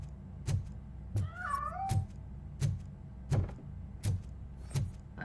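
Cat meowing in the video game RoboCop: Rogue City, a short wavering meow over a steady run of evenly spaced low thumps, with no voices.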